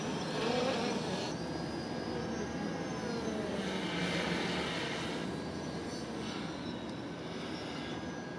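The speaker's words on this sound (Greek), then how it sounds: "Είναι ένα όντως δηλαδή drone που όντως έχει καλές ταχύτητες" A Xiaomi drone flies in sport mode, its propellers making a steady, continuous buzzing whir that stays even throughout and is heard alone at moderate distance.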